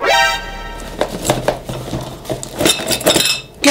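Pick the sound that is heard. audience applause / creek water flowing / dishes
dishes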